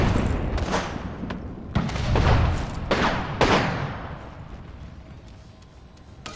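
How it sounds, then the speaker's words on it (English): Grenade blast and gunfire in the video game Apex Legends: a string of sharp bangs and booms, several heavy hits with rumbling tails, dense and fairly loud, fading toward the end. "Throw my grenade out."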